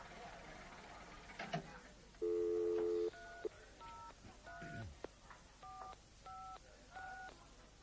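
A telephone keypad dials a number as a series of clear, separate touch-tone beeps after a few handling clicks, close by in a quiet room, with no talk.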